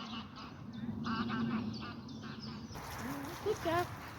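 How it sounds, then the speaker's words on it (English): A coot calling on open water beneath overhanging trees, a few short nasal honks and quacks rising over a low outdoor background. "that's your coot"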